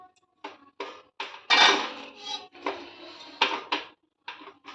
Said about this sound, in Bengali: এবার ঢাকাটা তুলে দেখছি ঠিক আছে কিনা